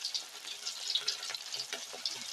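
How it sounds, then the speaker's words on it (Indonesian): Tofu frying in very hot oil gives a steady, crackling sizzle with scattered pops, moderately quiet and continuous throughout, with no voices. "saya akan goreng sampai dengan kekuningan seperti tahunya tadi"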